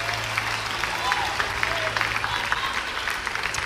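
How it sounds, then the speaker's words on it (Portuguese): A church congregation claps in a dense, steady patter at a moderate distance, with voices murmuring underneath. "os que podem, tomem seu assento aplaudindo a Jesus"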